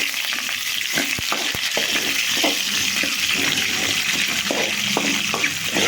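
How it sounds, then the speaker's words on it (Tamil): Chopped onions sautéing in a pan for a Tamil tomato gravy, a dense continuous sizzle with scattered stirring knocks close by, no speech. "அடுத்தது அதை ஒரு வதக்குறோம். இப்போ வெங்காயம் அரிஞ்சு வச்சுருக்கோம், அதை போடுறோம்."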